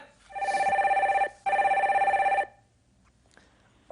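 A telephone rings for the next caller on a Korean call-in broadcast, sounding two loud, close rings separated by a short gap. Silence follows, and no one speaks.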